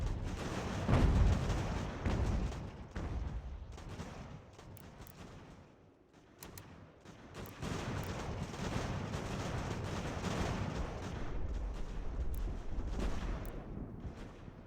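Artillery cannons and musket volleys boom and crackle continuously in Ultimate General: American Revolution, a dense, loud battle din of overlapping blasts with a short lull midway.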